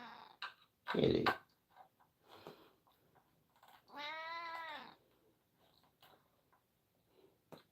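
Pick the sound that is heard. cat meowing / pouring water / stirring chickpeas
cat meowing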